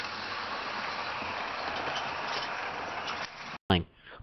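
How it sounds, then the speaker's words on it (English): Two British Railways 9F steam freight locomotives race down the line hauling a passenger train, a loud, continuous rumbling roar that cuts off abruptly near the end before a brief, different burst of sound. "The two 9Fs thundered down the line,"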